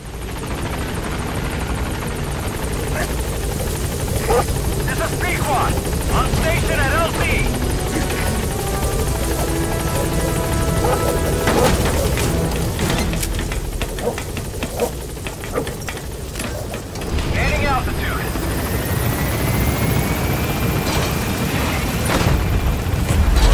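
A support helicopter's rotor thrums steadily throughout in Metal Gear Solid V: The Phantom Pain, loud and sustained, with occasional booms and clatter of game action layered over it.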